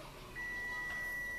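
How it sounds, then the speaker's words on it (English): A kitchen timer gives a thin, high electronic beep tone that starts partway through and holds under faint room background, with no talk. "There's my timer."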